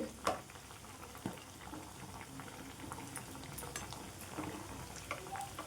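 Wheat flour and jaggery sweets fry in hot oil with a steady bubbling sizzle, a few soft clicks and taps of a utensil breaking through near the start.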